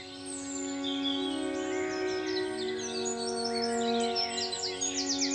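Dawn chorus of robins, blackbirds, great tits, blue tits and wrens, a dense layer of overlapping chirps, trills and whistles from several birds at once, steady and moderately loud with a busy flurry of notes toward the end.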